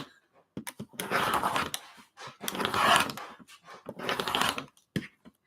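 A rotary cutter slices through many stacked layers of cotton fabric scraps being cut into 3-inch squares, heard as repeated long rasping strokes, about four separate cuts close by, with a dog panting faintly between them.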